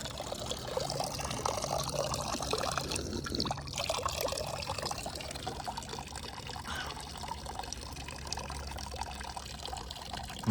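Clean, cold drinking water flowing and trickling on a hillside near Zurich, a steady close pouring splash lasting throughout with no talk.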